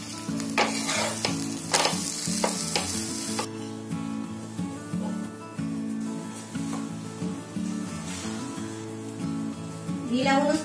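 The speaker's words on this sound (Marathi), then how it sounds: "घी लावूनच त्या भाजायच्या" Semolina flatbreads roasting in ghee on a hot pan give a steady sizzle with occasional stirring and scraping clatter, close and fairly loud, with no talking.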